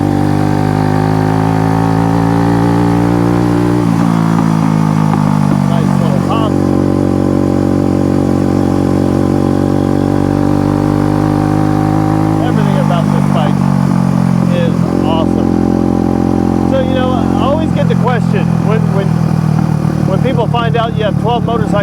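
A small Honda CB125 cafe racer motorcycle engine runs steadily with a deep, throaty rumble, the pitch shifting a few times as it revs up and settles while riding.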